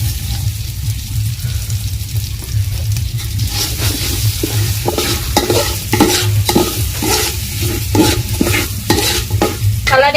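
Moong dal frying in oil with a spoon scraping and stirring it in a pan, a steady sizzle under repeated rhythmic stirring strokes, loud and close throughout.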